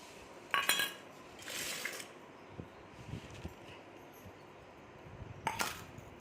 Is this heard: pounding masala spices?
yes